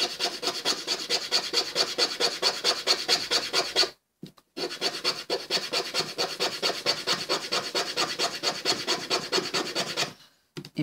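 A rolled giant paper blending stump is sanded with quick, rhythmic back-and-forth rasping strokes, close and steady, broken by two brief pauses.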